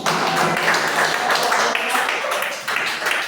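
A junior high school class in an English lesson clapping together, dense and fairly loud hand-clapping filling the room for about three seconds, with a voice briefly heard alongside.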